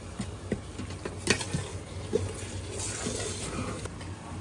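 Chicken with ginger and garlic sautéing in oil for a biryani, soft steady sizzle with a few light stirring clinks and scrapes against the pot, close by and moderate in level.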